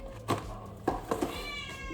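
A house cat meows several times in quick succession, close by and fairly soft, over a low steady background hum.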